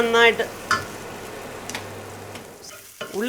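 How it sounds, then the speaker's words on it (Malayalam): Onions sautéing in a pan for fish cutlets give a soft, steady sizzle with a few scraping stir strokes, fairly close and moderately quiet, alone without talk. "അപ്പോഴത്തേക്ക് നമ്മുടെ ഉള്ളി വഴണ്ടുകൊണ്ടേ ഇരിക്കുന്നു."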